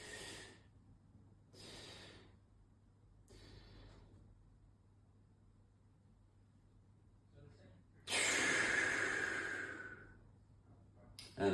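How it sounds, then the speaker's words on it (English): Three-stage breathing exercise done during a fascia movement routine: three short sharp breaths through the nose, then a long loud forceful exhale, with quiet pauses between. "3-stage breath."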